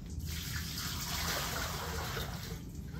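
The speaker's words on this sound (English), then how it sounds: "I'm gonna dump it in the sink." Water from a patient's catheter collection container is dumped into a sink during catheter care, a steady rushing gush of liquid pouring close by for about three seconds, with no talk.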